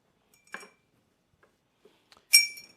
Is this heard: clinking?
yes